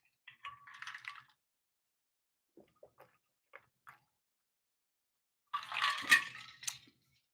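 Water is poured into a glass that rings loudly, in two bursts of splashing and clinking with a few faint clicks and taps between them, heard close up in a quiet room.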